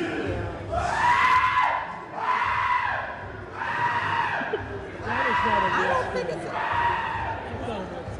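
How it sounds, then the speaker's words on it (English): A recording of a man screaming plays, five long, loud, wailing yells repeated in a steady rhythm with short breaks between them, over a low background hum. "This is some world-class screaming."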